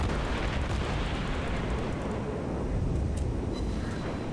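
The St Louis warship burns during a naval battle video game, a dense roaring rumble of flames and distant blasts holding steady and loud throughout.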